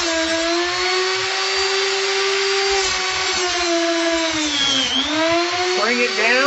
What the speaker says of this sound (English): I turn this on by pulling the grinder forward